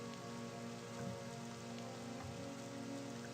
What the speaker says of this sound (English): letting the rain fall on her